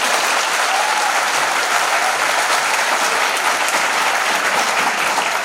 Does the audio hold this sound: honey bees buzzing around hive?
no